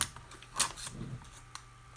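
Scissors snip open the wrapper of a Topps Update baseball card hanger box, a few faint, quick cutting clicks and crinkles in a quiet room.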